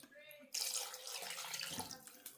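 Water poured into a cooking pot for boiling meat in a home kitchen, a short rush of splashing and gurgling that starts abruptly and continues, with faint background sound before it.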